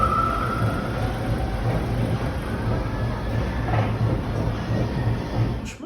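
A Lille metro line 1 train running with a steady low rumble and rolling noise throughout, a brief high whine early on, and faint clanks near the end as it moves along.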